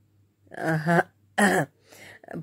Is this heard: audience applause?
no